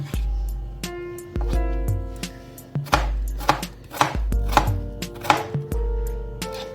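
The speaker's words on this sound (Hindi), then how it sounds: "तो व्यूअर्स ये मैं बना रही हूँ फिंगर चिप्स की शेप में। तो ऐसे ये सारे मैं काट लूँगी।" Potatoes are chopped into finger-chip strips on a board, a steady run of sharp, close knife thuds that keeps a regular rhythm throughout.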